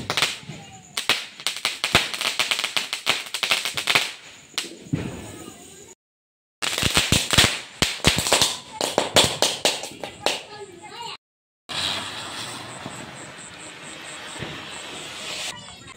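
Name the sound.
firecrackers bursting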